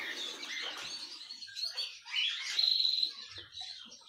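Canary chicks in a cage give high, thin chirps and twittering calls, close and fairly faint, with soft rustling underneath and no talking.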